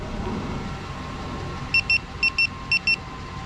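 A 2005 Chevy Silverado idles with a low, steady rumble after a remote start, while a short run of paired electronic beeps sounds partway through.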